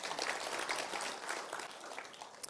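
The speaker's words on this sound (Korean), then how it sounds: "박수 한번 부탁드립니다." Applause from a seminar audience at a breakfast business lecture on the economic outlook, a brief, soft burst of many hands clapping that tapers off toward the end, heard from some distance.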